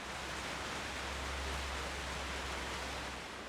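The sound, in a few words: rain falling outside during a storm in Libreville, Gabon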